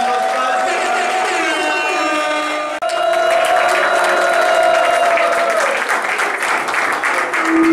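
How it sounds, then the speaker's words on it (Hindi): Loud audience applause at a Republic Day cultural celebration, a dense sustained clapping that briefly dips and then swells again, with steady tones from music or a held note running beneath it. "एक बार जोरदार तालियों से अभिनंदन करना चाहूंगा।"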